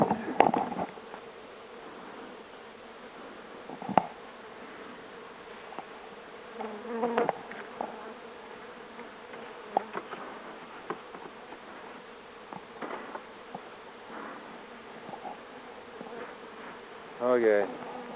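Honeybees hum steadily at close range around an open hive during a spring inspection, the buzzing low and continuous with occasional handling clicks and bumps.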